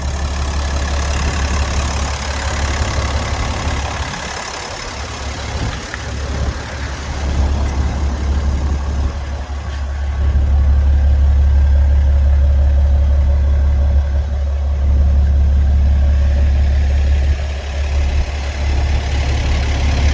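A 2000 Peterbilt 379 conventional truck with a Cat C12 turbo diesel engine idling, a loud, steady low rumble close by, holding a smooth even rhythm with a slight rise in level partway through.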